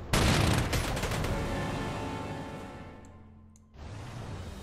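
Gunfire from a tank attacking an anti-aircraft gun in the strategy game Panzer Corps 2: a loud burst of rapid shots fading into a long rumbling decay, followed by a softer swell of sound.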